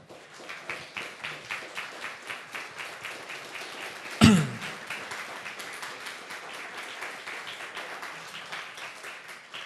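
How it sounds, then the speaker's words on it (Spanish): A church congregation applauds during a sermon, a rhythmic, fairly even clapping sustained throughout, with one sharp loud thump partway through. "Denle un fuerte aplauso al Señor."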